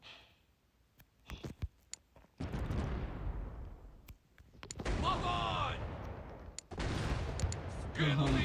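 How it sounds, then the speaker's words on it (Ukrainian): Several heavy booming cannon shots in the pirate video game The Pirate: Caribbean Hunt, loud and blasting, with muffled rumbling in between and bits of talk near the end. "що це по мені ведеться вогонь"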